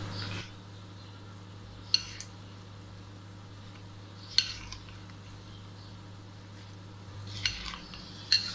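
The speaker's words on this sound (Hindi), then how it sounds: "इसको अच्छी तरह मिक्स कर लेते हैं।" A spoon scrapes and clinks against a bowl while fruit chaat is mixed with cream, a few sharp taps spaced seconds apart over a low steady hum.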